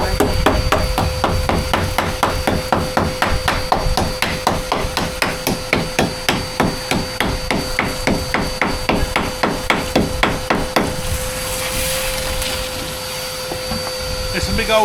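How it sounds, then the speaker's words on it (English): A hammer pounds the walls of a bus during a home-build conversion. Rapid, loud, evenly spaced blows go on for about eleven seconds and then stop, while a steady mechanical whir like a vacuum runs underneath. "Let's go with the hammer test."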